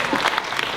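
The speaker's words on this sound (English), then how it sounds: "Thank you for the little claps." A small audience at a talk on sharing personal stories gives a brief scattering of light claps lasting under a second, soft and close together.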